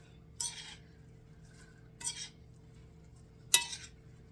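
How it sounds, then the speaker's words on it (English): Coleslaw with onions being tossed in a bowl, three separate quiet bursts of utensils scraping and clinking against the dish with short pauses between, close and alone in a quiet kitchen. "I'm going to mix this all up."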